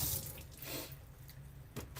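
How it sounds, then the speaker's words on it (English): Hands being washed under a running kitchen or sink tap, a close hiss of flowing water with splashing that swells and fades, then brief bursts of splatter near the end. "always want to wash the hands"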